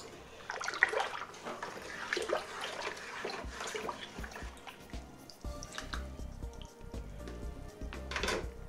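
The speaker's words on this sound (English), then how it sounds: "Give it a good stir." Water being stirred in a plastic wine-making bucket for blackberry and rhubarb wine, with about three litres of water just added. Sloshing and swirling liquid continues steadily throughout with irregular splashes, close and fairly loud, without speech.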